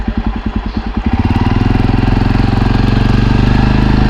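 A motorcycle engine runs steadily close by near the Kunkeshwar temple on the Konkan coast, a loud, continuous rhythmic putter that firms up and holds a constant idle-like chug after the first second.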